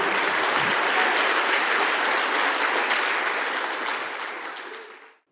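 A church congregation claps for Jesus in sustained, loud, dense applause that holds steady before fading out near the end.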